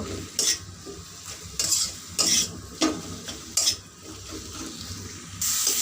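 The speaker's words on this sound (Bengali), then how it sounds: "এবার এইগুলোকে দিয়ে ভালো করে মিশিয়ে নেব" A spoon scrapes in repeated strokes through onions and a mash of white eggplant in a hot wok, each stir rising over a steady, close sizzle of frying.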